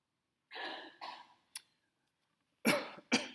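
A person coughs several times in a quiet room: two harsh coughs, a short catch, then two more loud bursts close to the listener, with silence between them.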